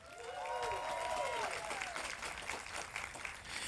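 Audience applause for President Rick Williams at a domestic violence awareness walk, a steady crowd clapping throughout with a voice briefly audible near the start.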